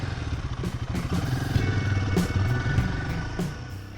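A 2026 Royal Enfield Himalayan 450 adventure motorcycle in Slate Poppy Blue, heard while riding: a steady mid-pitched single-cylinder engine drone with mechanical clatter and wind rush, continuous and close, with no speech.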